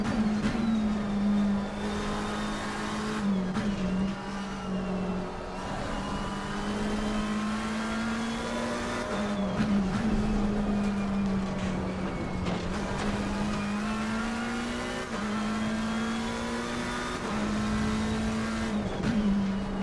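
A Ferrari race car engine in Assetto Corsa Competizione, a loud, close, high-revving whine rising and falling through gear shifts and corners, steady throughout without voices.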